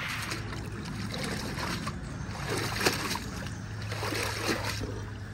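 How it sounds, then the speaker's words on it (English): Pond filter bio balls in laundry bags get rinsed in water, giving close, continuous sloshing, trickling and splashing with occasional louder splashes during autumn pond maintenance. "I'll be cleaning the bio balls and all that, basically rinsing them out"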